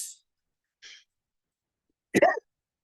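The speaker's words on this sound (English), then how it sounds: "Sorry, I have a little cough." Two faint, brief breaths are followed by a single short, sharp cough, close by, with silence between.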